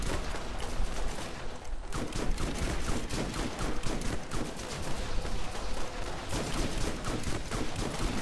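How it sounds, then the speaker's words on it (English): In the PC game Borderlands, an automatic shotgun fires in a relentless stream, with dense, overlapping blasts and impacts that stay loud and continuous throughout. "I'm loading him up with shotgun good stuff."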